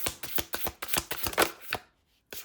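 Tarot cards are shuffled in a quick run of crisp riffling flicks and taps, close and fairly quiet, followed by a brief pause and one last flick.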